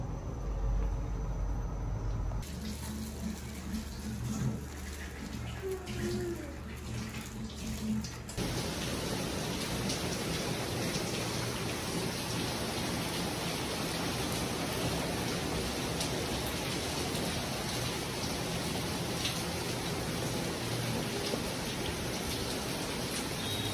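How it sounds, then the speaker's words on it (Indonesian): Steady heavy rain pours down, a dense broadband hiss that grows louder and fuller after the first few seconds and keeps going without a break. "Hujan ya guys, terjadi."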